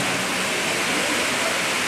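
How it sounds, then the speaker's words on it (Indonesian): Steady, dense rainfall with a constant broadband hiss, loud and close, without pauses and with no talking over it. "Mudah-mudahan hujannya ini hujan yang baik, membawa keberkahan."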